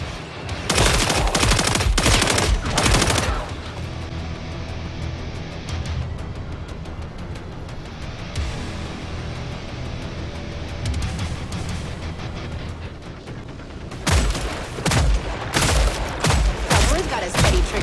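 Rapid bursts of automatic gunfire from the co-op shooter game Killing Floor 3, loud and close. Dense volleys come at the start and again near the end, with a steadier background of combat noise and music between them.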